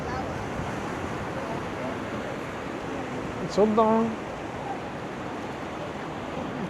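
Ocean waves wash onto a Pacific beach at San Clemente in a continuous, even hiss of surf and wind; a person speaks briefly in the middle.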